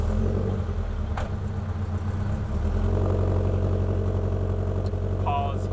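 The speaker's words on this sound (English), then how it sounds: "that was a Subaru BRZ" A Subaru BRZ sports car engine runs loud and steady nearby, its deep low rumble and shifting idle tone sustained throughout with a few faint incidental sounds over it.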